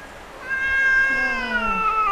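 A large champion show cat in a Philippine cattery gives one long, drawn-out meow that rises then wavers and falls, loud and close, with no talking.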